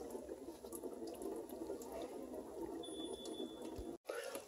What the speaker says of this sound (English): coolant still draining